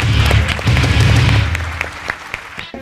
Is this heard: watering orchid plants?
no